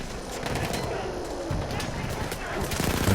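Gunfire in Battlefield 1 rattles in rapid bursts during a World War I campaign fight, with someone talking over the shooting throughout.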